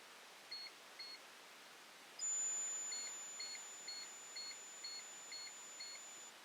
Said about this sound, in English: This guy kind of beeped at me